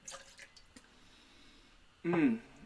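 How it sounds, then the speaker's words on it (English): Half an ounce of vanilla syrup poured into a mocktail: a short, close liquid splash and trickle lasting under half a second, after a stretch of quiet room tone. "Next, we'll add 1/2 ounce of vanilla syrup"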